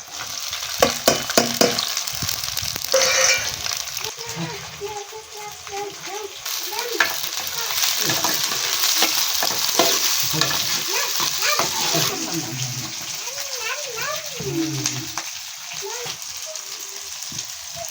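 Loud sizzling and spitting of green chillies frying in hot oil for tempering over a wood fire, with stirring scrapes and a voice speaking intermittently over the crackle.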